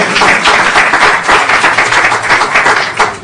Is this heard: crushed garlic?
no